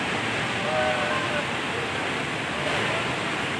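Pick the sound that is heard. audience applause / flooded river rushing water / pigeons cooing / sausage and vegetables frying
flooded river rushing water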